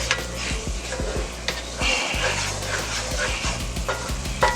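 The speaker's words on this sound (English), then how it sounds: "Stir that in there real good." Flour stirred into hot fat for a roux for smothered turkey wings, with a soft sizzle and repeated scraping spoon strokes, while a dog barks several times nearby.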